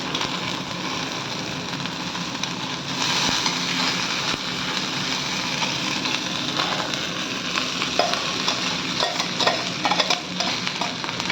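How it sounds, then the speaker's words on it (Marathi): Cooked biryani rice with frozen green peas, onion- and garlic-free, stirred in a hot pan: a steady close sizzle with constant scraping and shuffling of the spoon, no voices. "आणि आता आपण शिजवून घेतलेला बिर्याणीचा राईस घालणार आहोत."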